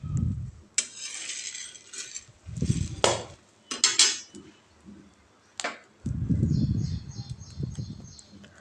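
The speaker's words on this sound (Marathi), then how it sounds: "आपल्याला सतत हलवत राहायचं आहे आणि छान असं भाजून घ्यायचं आहे" Sabudana is stirred and roasted in a pan, with scraping spoon strokes and clinks against the metal in irregular bursts, close and moderately loud, separated by brief pauses.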